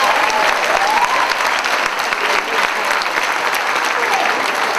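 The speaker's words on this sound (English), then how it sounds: "give both these fighters a big round of applause for an entertaining action" Sustained audience applause after a boxing match, a dense, steady wash of clapping from a large crowd that holds evenly for about five seconds with no break.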